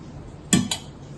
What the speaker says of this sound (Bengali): তো এইটা আমি ফ্রাই প্যানটা চুলোয় দিয়ে দিলাম।